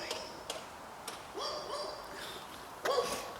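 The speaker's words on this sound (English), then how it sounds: "Might only be a tiny little dog." A small dog barks somewhere off at a distance in Sheffield, a few short, sharp yaps spaced irregularly, faint against outdoor background noise, with one louder pair near the end.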